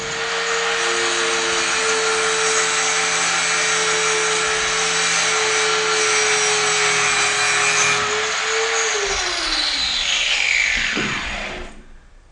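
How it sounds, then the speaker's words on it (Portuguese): Power tool grinding or brushing a metal workpiece to clean it before submerged arc welding, a steady loud whine that holds for about eight seconds, then winds down and stops. "Isso que eu estou fazendo aqui, limpando essa peça"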